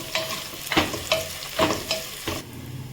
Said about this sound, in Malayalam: ഇഞ്ചിയും വെളുത്തുള്ളിയും അതും കൂടി ഇതിലോട്ടേക്ക് ഇട്ട് കൊടുക്കുക. അപ്പൊ എല്ലാം കൂടി നല്ല പോലെ ഒന്ന് വഴറ്റി കൊടുക്കുക.